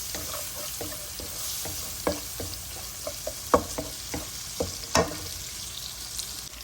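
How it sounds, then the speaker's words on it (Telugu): Tempering spices frying in ghee in a pan, a soft steady sizzle broken by scattered clicks and pops of stirring and spluttering seeds, close and alone. "ఒకసారి పోపులన్నీ కలుపుకుందాం"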